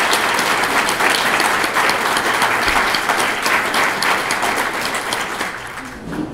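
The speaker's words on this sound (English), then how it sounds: "one more round of applause for all of our award winners this evening" A large audience at an evening business enterprise awards ceremony gives the award winners a sustained round of applause, dense and loud throughout, easing off slightly toward the end.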